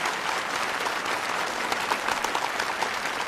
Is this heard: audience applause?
yes